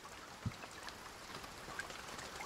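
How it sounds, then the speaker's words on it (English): Steady rain falls in the survival video game Escape The Pacific, a continuous, fairly faint hiss of drops with a few small patters and splashes. "And we have rain."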